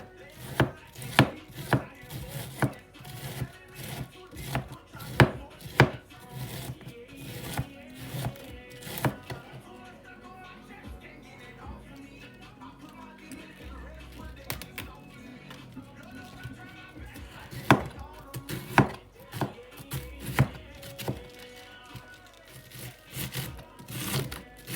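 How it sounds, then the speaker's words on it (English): A knife chops cabbage for a Jamaican raw vegetable salad, striking a board in quick rhythmic bursts of close, sharp thuds, with a brief quieter pause midway before the steady chopping resumes. "So I'm going to chop the cabbage."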